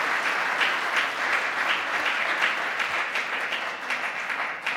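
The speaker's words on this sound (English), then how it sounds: "Please clap him." Steady, sustained applause from an audience at an education conference closing ceremony, many hands clapping evenly in a large hall, moderately distant and without a break.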